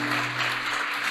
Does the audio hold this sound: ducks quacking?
no